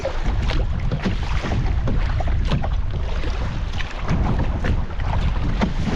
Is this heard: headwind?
yes